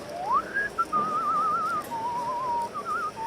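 A person at a poker table whistles a wavering, meandering tune in several phrases, clear and fairly close over faint room background, with no talk.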